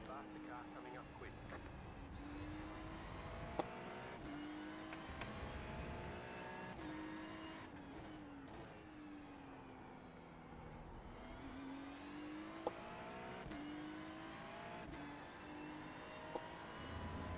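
A race car engine in an IMSA multiclass racing game, set in a Ferrari GT3 battle at Interlagos, whines and shifts pitch steadily through revs and gear changes, while a faster car's engine closes in and a voice talks over it.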